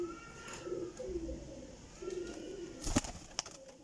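Breeder pigeons coo softly in a series of low, rolling calls, fairly faint and close, with a sharp brief knock near the end.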